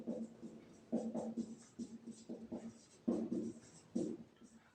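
Marker or chalk writing out a math expression in a classroom lesson, quiet bursts of scratchy strokes in an irregular rhythm, close and alone.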